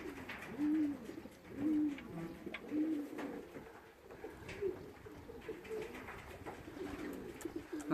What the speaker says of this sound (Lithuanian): Va, balandžiai baikštus,